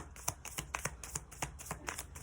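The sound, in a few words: shuffling tarot cards until cards pop out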